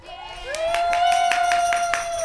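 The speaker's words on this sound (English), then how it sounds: "I want to start off by giving a round of applause to our wonderful, lovely MC, Juliana." An audience at an event claps in a brief round of applause, with a long sustained whoop or whistle ringing out over the scattered, close handclaps.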